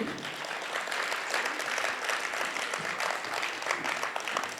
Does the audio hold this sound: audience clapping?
yes